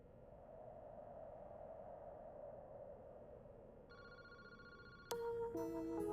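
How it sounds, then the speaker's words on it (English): A phone rings in the video game Paranormasight, electronic tones entering over a low background hum and turning into a louder, repeating ringtone pattern toward the end. "What's that phone is ringing?"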